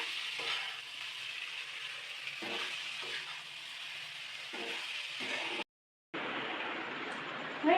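Pasta fries in a pan with a steady close sizzle, broken by rhythmic scraping stirs and one brief silent gap.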